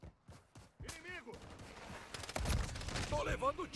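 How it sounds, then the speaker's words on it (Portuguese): Bursts of gunfire from the video game Call of Duty Modern Warfare 3, sharp volleys mixed with shouted voices and game effects, rising into a denser barrage toward the end. "Estou levando tiro aqui!"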